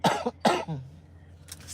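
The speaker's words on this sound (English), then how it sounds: "I'm starting to cough again." Two sharp coughs in quick succession, close and loud, followed by a brief throat-clearing rasp and a faint hiss.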